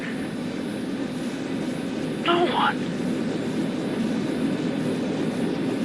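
Constant airplane engine drone in flight from a radio drama, a steady broadband roar filling the scene with a voice speaking briefly over it.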